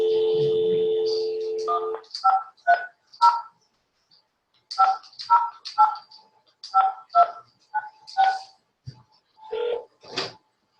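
A series of telephone keypad tones sounds as a phone number is entered into an automated line, short evenly spaced beeps in irregular clusters following a steady tone, with brief speech at the start.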